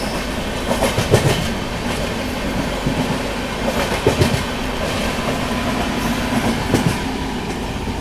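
Rajdhani Express running in India alongside the Haridwar Express, heard from on board as a steady loud rumble with rhythmic clickety-clack wheel beats over the rail joints.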